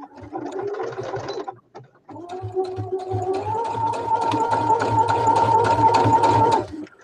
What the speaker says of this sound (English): I'm stitching my back to my front.